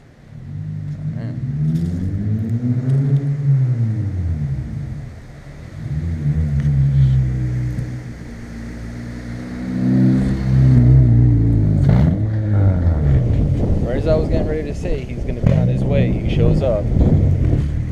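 A car rolling up and pulling in close by, its engine rumbling and revving in rising and falling sweeps that swell louder toward the end as it arrives.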